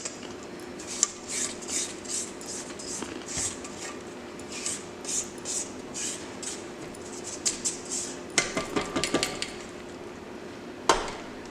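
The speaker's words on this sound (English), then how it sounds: "we're going to take our handy dandy spatula and scrape our bowl down" A spatula scrapes down a mixing bowl of butter and sugar mixture for pound cake, giving a run of soft scraping strokes with light knocks against the bowl, then a few sharper clinks near the end, with no talking.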